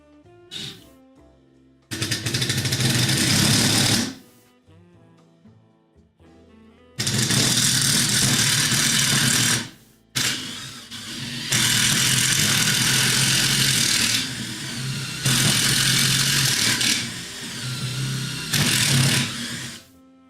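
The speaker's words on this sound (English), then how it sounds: "Just drill through it all." A power drill whirs loudly in several long bursts, grinding steadily through wood, with short quiet gaps between runs.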